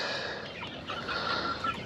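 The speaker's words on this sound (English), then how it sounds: "Check on the meat chickens." A flock of meat chickens on a farm after flooding clucks and murmurs steadily close by, busy, with no one talking.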